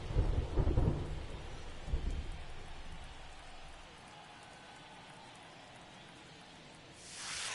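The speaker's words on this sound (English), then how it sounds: "It feels like we might be headed towards a rain delay if the weather doesn't ease up, Chris." Thunderstorm with rain in the baseball video game MLB The Show 23: a loud rumble of thunder up front fades into a steady wash of rainfall, with a brief swell of noise at the end.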